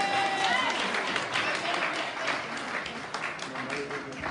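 A congregation at a Sunday church service in Paris applauds and acclaims, steady dense clapping filling the hall, with a preacher's voice speaking over it.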